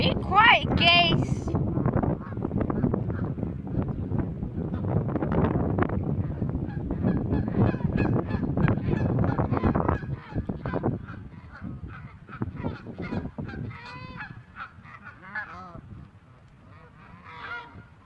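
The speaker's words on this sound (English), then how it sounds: "Be quiet, geese!" Geese honk loudly and repeatedly up close, their calls tumbling over one another in a noisy flock, with wind buffeting the microphone and quieter honks trailing off toward the end.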